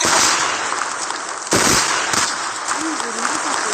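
Gunfire and a grenade blast ring out in a Call of Duty match, a steady dense crackle of shots with a sharp explosive thump partway through and a voice briefly under the din.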